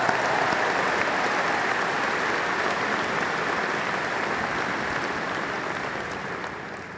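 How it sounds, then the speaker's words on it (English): Sustained applause from a large audience at a university welcome convocation, a dense, steady clapping wash lasting the whole stretch and fading slightly toward the end. "Let's give them a big round of applause."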